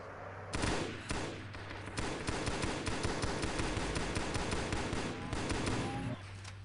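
Rapid automatic gunfire from Halo SPV3 rattles in loud, dense, continuous bursts with a few short breaks, close and harsh throughout.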